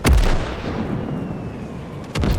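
Heavy artillery fire in the WWII game Call to Arms: Gates of Hell, set in 1943 Leningrad: a loud, close boom opens, then a long rumbling decay, and a second blast lands near the end.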